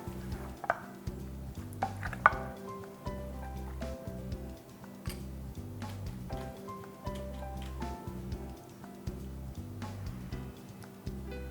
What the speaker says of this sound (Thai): เอาตัวเส้นพาสต้านะครับ ที่ต้มแล้วก็ล้างน้ำจนเย็นแล้วนะครับ ใส่ลงไป คลุกเคล้าให้เข้ากันครับ